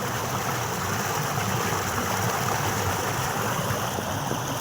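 Irrigation water flows at night through a cut in a field channel into farmland, a steady unbroken rushing wash heard close and alone.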